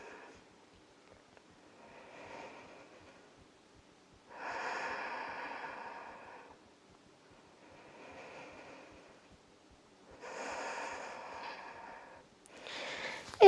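Natural, relaxed breathing in a yoga standing pose (Tadasana), with hands resting on the chest and back: about four slow, soft breath cycles, each a gentle airy rush rising and falling, close and quiet with no talk.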